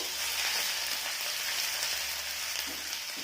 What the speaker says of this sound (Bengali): আদাটা ভেজে নেব।